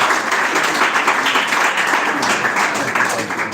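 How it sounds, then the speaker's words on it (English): Audience applause fills a hall at a government secondary school debate competition, a dense, steady patter of many hands clapping at close range without a break, with faint voices underneath. "clap for them now"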